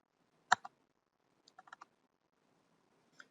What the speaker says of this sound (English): As I start typing bin, you'll see some options.